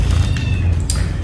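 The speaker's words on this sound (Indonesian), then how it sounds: "Kucingnya meong meong." Cat meowing close by in a domestic setting, a few short whiny meows over a loud, steady low rumble of background noise.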